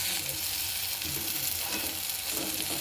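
Ginger garlic paste frying in oil over cooked brinjal, a dense, unbroken sizzle that stays steady and fairly quiet throughout, with no voices.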